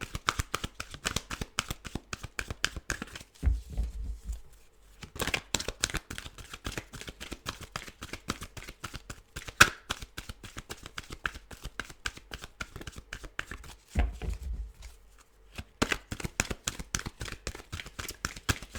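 Tarot cards being shuffled over and over in quick, crisp riffling bursts with two short pauses, close by and fairly quiet, no talking.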